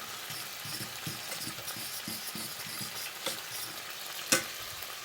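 Bacon sizzles in a pan while beans are stirred alongside: a quiet, steady frying hiss with repeated soft scraping strokes of the stirring and a couple of sharper clinks near the end.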